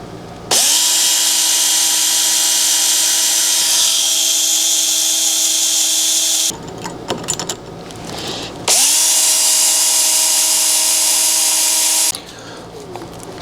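A power drill with a reverse drill bit whines at steady speed while drilling out a broken door lock screw held in a vise, running in two long bursts separated by clattering handling noises.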